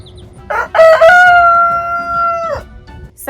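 A rooster crows loudly nearby, one long drawn-out call preceded by a short squawk, with faint fowl sounds around it.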